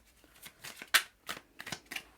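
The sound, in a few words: shuffling a deck of cards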